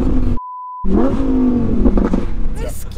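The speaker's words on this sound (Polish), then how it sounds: "Przyspieszenie." A Lamborghini accelerates hard, its engine note rising loudly and close, broken by a brief electronic beep near the start, with voices talking over the roar.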